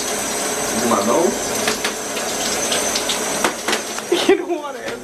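Shower water runs in a steady hiss and splash while people talk over it.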